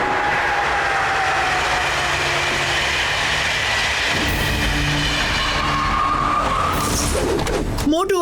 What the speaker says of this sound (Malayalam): അവര് ട്രെയിൻ എടുത്തുകൊണ്ട് മുകളിലേക്ക് പോവാണ്